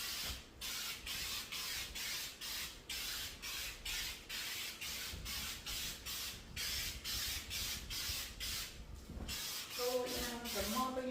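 Rhythmic bursts of hissing spray from a texture sprayer coating a wall repeat in quick pulses, close and steady, with a brief mechanical whir near the end.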